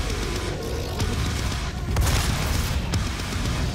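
Rocket launcher firing and explosions in the Doom video game, with repeated booming blasts and a sharp crack or two over a continuous roaring, noisy background of gameplay.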